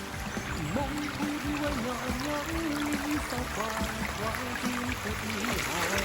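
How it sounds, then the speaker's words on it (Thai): Water runs continuously beside a walking path up to a nature viewpoint, a steady rushing flow with a voice speaking faintly over it. "ทางเดินขึ้นก็จะเป็นน้ำไหลแบบนี้ตลอดทางเลยนะคะ"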